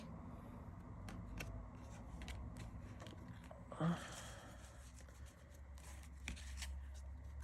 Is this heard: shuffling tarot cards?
yes